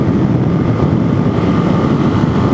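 A Suzuki DRZ470S motorcycle engine drones steadily at highway speed on a break-in ride, with continuous loud low rumble and wind buffeting, no talking.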